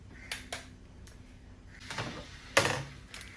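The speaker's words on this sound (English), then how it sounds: "Sorry for that noise. I'm just going to put them in the air fryer." Brownies going into an air fryer in a home kitchen: a few clattering knocks and scrapes, a sliding basket rattle and a sharp clunk, fairly close against quiet background.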